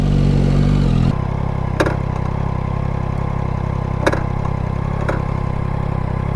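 Yamaha Tenere 2025 motorcycle engines run loud and close, then drop to a steady idling rumble with a few sharp clicks and clatters over it, and no voices.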